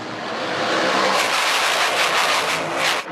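NASCAR Whelen Modified race cars racing at Stafford Motor Speedway, a loud, continuous roar of engines passing close by, swelling and holding for about three seconds.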